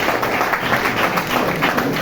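Applause from an audience at a team meeting, a steady dense wash of many hands clapping for about two seconds, fairly loud and continuous without any voices on top.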